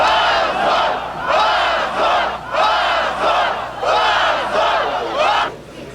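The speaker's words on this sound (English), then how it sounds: "cheering crowds sensed the changing atmosphere" Crowds outside the Russian parliament in 1991 cheer and chant in rhythmic waves, a large mass of voices rising and falling in repeated loud surges.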